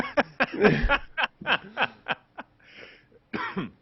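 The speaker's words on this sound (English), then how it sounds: "I'm gonna cough in the microphone now because I'm laughing so hard." A person laughing hard coughs close into a microphone, a series of short, sharp bursts mixed with snickering chuckles, with brief pauses between.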